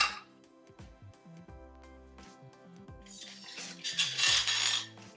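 Metal lids are set onto home canning jars with a series of light, close metallic clinks and taps, quiet overall, followed by a brief rushing swell near the end; nobody speaks.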